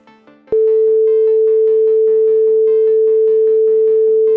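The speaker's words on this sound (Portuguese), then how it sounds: "E o som da nota Lá é esse daí." A pure 440 Hz tone, the musical note A, sounding steadily and loudly, entering abruptly after soft background piano-like notes that keep playing beneath it.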